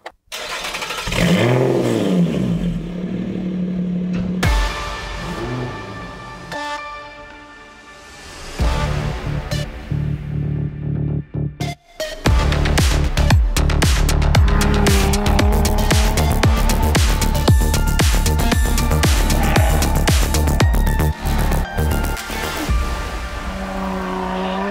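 A Lotus 410 Sport's engine cranks, catches and starts, then revs hard with valves open, loud and close, with repeated sharp blips and a sustained roar after a brief pause.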